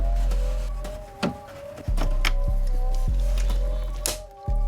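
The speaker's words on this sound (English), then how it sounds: "That cracking sound you hear is just the threads of the screw releasing from the plastic" Old plastic on a 1992 Miata dashboard gives off sharp cracks and creaks as screw threads let go, several brittle snaps over a steady electric screwdriver whir that drops out and restarts a few times.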